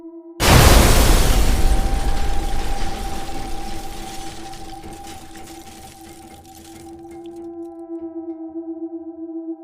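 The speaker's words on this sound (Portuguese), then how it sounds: "um estrondo metálico, como se algo pesado tivesse sido jogado no chão" A sudden heavy metallic crash rings out, followed by a long resonant clanging decay that hums and fades slowly over several seconds.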